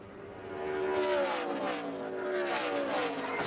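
Onboard engine of an ARCA stock car at the Pennsylvania 125, a steady loud roar with shifting engine tones as the car is caught up in a hard hit on track; no talk.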